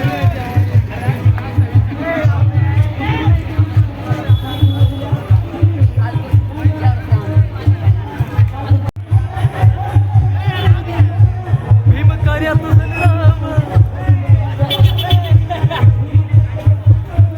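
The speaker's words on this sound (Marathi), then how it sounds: "इतकी भयंकर गर्दी आहे" A dense crowd packs a band procession for tribal Adivasi Day, a loud continuous hubbub over heavy, rhythmic band drumming that pounds steadily throughout.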